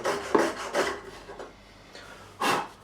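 A file rasps across bouzouki frets to level them, in a few short scraping strokes of metal on metal at close range, with a pause before one last firm stroke.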